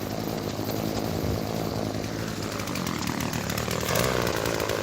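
A two-stroke petrol strimmer runs continuously close by, a loud, buzzing engine drone that holds steady with a slight rise in revs near the end.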